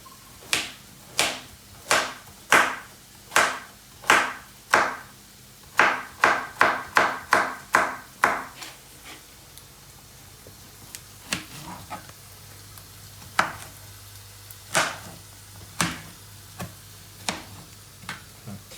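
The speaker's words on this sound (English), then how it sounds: "Give them a chop." A knife chops baby corn on a cutting board in a home kitchen, with a steady run of sharp, close taps. The taps come in quick clusters, then thin out to a few scattered knocks after a pause.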